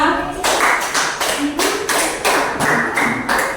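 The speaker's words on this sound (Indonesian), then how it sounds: "Tepuk tangan dulu pada kelompok 2." Classroom group applause for the second student group during a teaching practice session: a burst of rhythmic, patterned clapping, about eight loud claps in a steady beat, close and filling the room.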